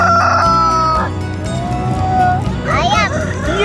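A rooster crows loudly nearby at a petting park with a drawn-out call, followed by another rising crow, while a child and an adult speak.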